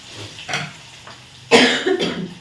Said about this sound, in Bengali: একটু বেশি কথাবার্তা বললেই আমার কাশি উঠে আসছে